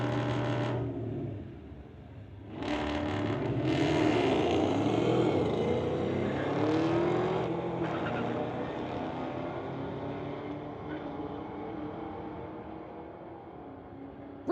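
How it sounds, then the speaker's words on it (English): Ford Mustang and Chevrolet Camaro launching down a Friday-night street-legal drag strip, engines roaring loud and close before settling into a steady fading drone as the cars pull away. "Mustang versus Camaro."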